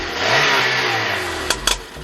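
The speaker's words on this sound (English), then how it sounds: "So my girl's going to go give it a little rev." A Peugeot car's engine is revved up close to the exhaust pipe, holding a loud rising drone that settles, then a couple of sharp exhaust pops crack out near the end.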